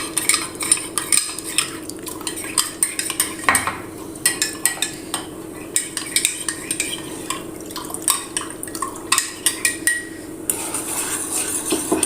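Custard powder whisked into milk with a spoon: quick, rapid metal-on-vessel clinks and scraping run continuously and fairly loud throughout, with a brief pause partway through.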